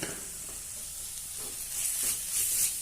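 Turmeric, coriander and chili powders sautéing in a pan, giving a soft steady sizzle with brief scraping stirs that get a little louder toward the end.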